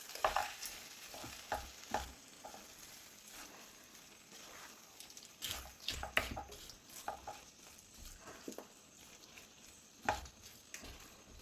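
A spoon stirs kootucurry of yam, raw banana and chickpeas with fried coconut in a pan, giving irregular scraping and clacking strokes over a soft sizzle, close and fairly loud with no voices.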